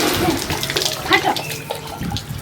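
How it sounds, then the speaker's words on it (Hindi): Water splashes and pours over a person bathing, irregular sloshing bursts close by, with a voice talking faintly in the background. "तो अपने ऊपर पानी डाली जल्दी"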